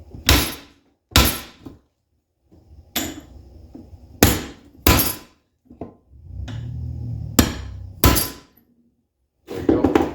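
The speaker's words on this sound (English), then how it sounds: "Hit it here. We're going to get this U-joint cup coming out" Hammer blows on a drive shaft to knock out a U-joint cup, about eight sharp metallic strikes at irregular intervals, loud and close, with a few softer clanks and a brief rumbling scrape between them.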